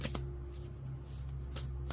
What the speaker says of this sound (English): Let's get a couple shuffles on this